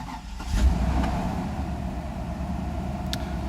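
A Mercedes car engine with a failed EGAS throttle control module cranks and catches, then settles into a steady idle hum with no one talking.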